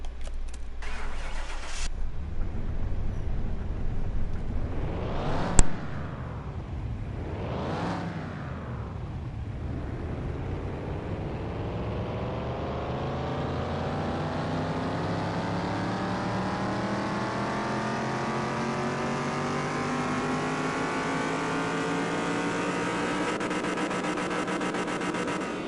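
A hot rod engine rated at 204 horsepower and 251 lb-ft from the factory runs on a dyno in Car Mechanic Simulator 2021. It cranks and catches, blips twice sharply, then winds up in one long steadily climbing rev, loud and close.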